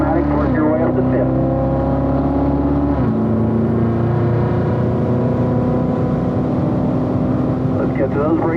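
A car accelerates on a warm-up lap around a track, its engine droning steadily and stepping up through gear changes, with an audible shift near the start and another partway through, under a speaking voice.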